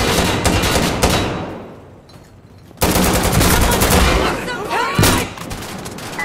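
Machine gun fire from an M240, SAW or Galil in the tactical shooter Insurgency: Sandstorm, loud and close in rapid sustained bursts with a brief lull, and voices shouting over the gunfire.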